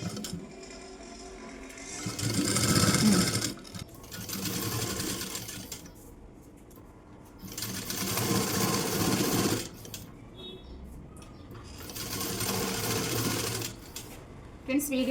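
Sewing machine stitching a blouse, running in steady whirring bursts of a few seconds each with short stops between, close by, while someone talks over it.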